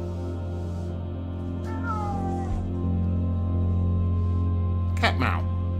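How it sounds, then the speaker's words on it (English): A short cat meow rises and falls over a steady electronic hum and game background drone in the horror game Simulacrum, followed later by a brief, sharp vocal burst. "Cat meow."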